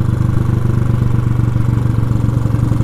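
A motorcycle engine runs steadily on a Dindigul highway as the rider pulls over, a close, even mid-pitched drone with a fine pulsing throb and no talk.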